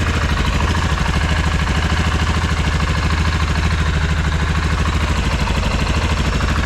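A Kymco MXU 550 quad's engine idles steadily and close by, with a loud, even, low thrumming pulse and light mechanical clatter and no talk over it.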